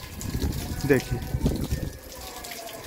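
Water gushes steadily from an opened tap and hose onto a 5 kW rooftop solar panel array being washed, with someone talking over the flow.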